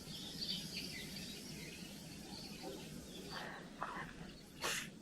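Faint bird chirps scattered over a steady outdoor hiss in a snowy hanok village in Haenam, with a few brighter calls near the end standing out briefly.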